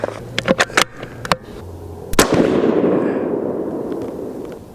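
A Remington 700 in .243 Win fires a single loud rifle shot at a shooting range, following several sharp clicks and bolt handling noises, with a long rumbling echo that fades out afterward.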